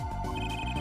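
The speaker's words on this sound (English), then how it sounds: "sorry about the phone ringing." A phone rings in the game Apollo Justice: Ace Attorney, a loud, close electronic tone with a repeating warble that fills the short moment alone.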